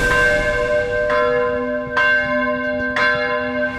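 A deep, resonant 310 kg Orthodox church bell on a yoke, in Ciocănești, Romania, struck about three times at a steady pace, each blow ringing out with a long, humming sustain between strikes.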